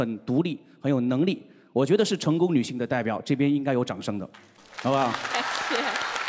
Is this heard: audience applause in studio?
yes